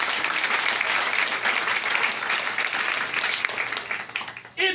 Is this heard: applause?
yes